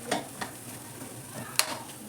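Soya chunks stirred into egg fried rice in a pan, with a few soft scraping clicks from a spoon against the pan over a low background hiss, one sharper clack near the end.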